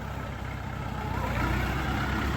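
A Jinma 404 mini tractor's engine runs steadily nearby, a continuous low diesel rumble and hum with no breaks and no voices.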